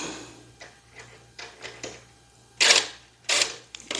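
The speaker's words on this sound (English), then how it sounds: "Let me get my screw started there so that it'll hold itself together." Screw being started into a piece of a Sam's Club daybed swing during assembly: a run of small clicks and ratcheting ticks, then two louder, longer grinding bursts as it bites, close and with no talk.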